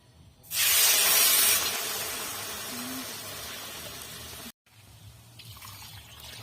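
Water poured into a hot wok holding sugar for syrup, bursting into a loud steamy hiss and spray that fades gradually, then drops out briefly before a softer simmer resumes.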